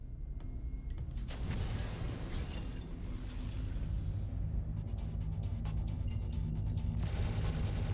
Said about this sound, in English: Just watching all those lasers fire out.